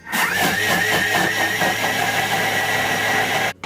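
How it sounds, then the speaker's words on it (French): Thermomix food processor running at speed 9 with the measuring cup in the lid, grinding 350 g of granulated sugar into icing sugar, a loud steady whirring roar that cuts off abruptly near the end. "Je mets bien le gobelet, sinon le sucre vole partout. Et je vais mixer vitesse 9."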